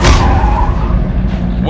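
A 600hp all-wheel-drive rallycross car launches on a surface coated with dish soap, giving a loud, broad roar and rumble with a tyre-scrabbling edge that stays close and continuous throughout.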